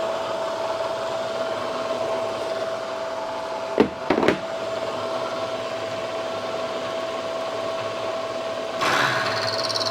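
A high-speed steel end mill on a milling machine cuts metal with a steady, close mechanical whine and hum. A couple of sharp clicks and knocks come near the middle, and the tone shifts briefly near the end.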